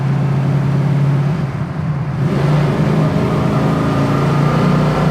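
A 1968 Camaro big block muscle car pulls hard in fourth gear at speed, its low engine drone steady and loud over road and wind noise, with no voices.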